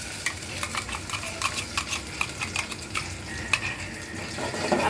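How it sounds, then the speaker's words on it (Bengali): Blended spice paste drops onto onions fried with whole garam masala, giving a steady close sizzle broken by repeated scraping stirs of a spoon against the pan, with no voices. "গরম মশলার সাথে পেঁয়াজটা একটু ভেজে নিয়েছি, এখন এই যে ব্লেন্ডার করা মশলাটা দিয়ে দিব।"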